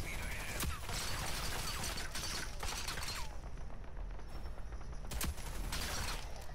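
Lancer's automatic gun fires in Rogue Company, a run of sharp close shots over steady game noise, with a couple of louder bursts.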